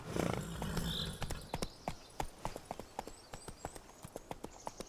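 In the Star Wars Jedi: Fallen Order video game, horse hooves clip-clop at a steady walking pace. A breathy snort comes near the start, then evenly spaced, fairly faint hoof strikes follow with no speech.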